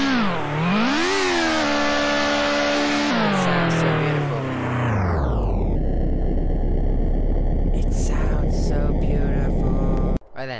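An F1 race car engine in the game Turbo Dismount screams and shifts pitch up and down, then drops into a rough, roaring drone, loud and close, with a few clanks near the end.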